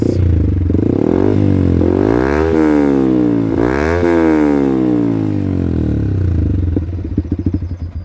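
A 2019 Yamaha YZF-R125 motorcycle exhaust revs up and down twice, deep and close, then settles into a lumpy, popping idle.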